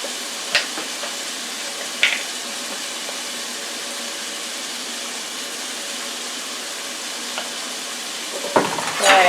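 Cinnamon squash with raisins, seasoned with kosher salt and black pepper, being stirred in a pan. A soft, steady sizzle runs throughout, with a few sharp clacks of a utensil against the pan, close and without speech.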